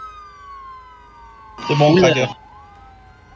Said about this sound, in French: On peut mettre la sirène, j'avoue.